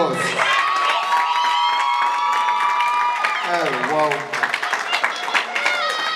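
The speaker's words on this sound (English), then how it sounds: "Let's give Keisha another round of applause." A graduation ceremony crowd applauds and cheers loudly for a graduate, with whoops and children's shouts rising over continuous clapping and a voice-like sustained tone early on.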